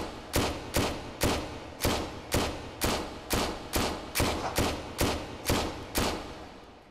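Eleven evenly spaced pistol shots from an M9A1 fired in a VR video game, each a loud, sharp crack with a short decaying tail, in a steady unhurried rhythm with nothing else heard.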